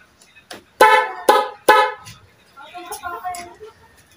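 Stack horn on a Rusi Royal 125cc motorcycle sounds three loud, close, evenly spaced blasts, each about a third of a second, followed by softer talk.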